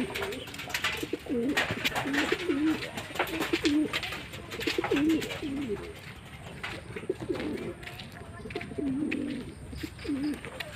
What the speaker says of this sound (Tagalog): dami na natin ang ibon